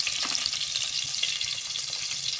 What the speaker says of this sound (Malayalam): രണ്ടും പാടത്ത് നല്ലപോലെ പച്ചമണം പോകുന്നവരെ ഒന്ന് വഴറ്റി കൊടുക്കുക